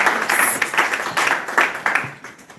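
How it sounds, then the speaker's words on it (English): Applause from the audience at a London tech startup event, a fairly small crowd clapping in an uneven patter with distinct individual claps, then fading out. "Give them a round of applause"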